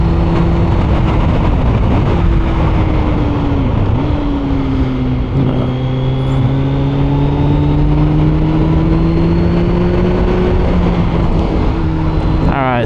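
A 2024 Kawasaki Z900 motorcycle in sport mode revs hard and close, engine pitch climbing, dipping at gear changes and climbing again under constant wind noise.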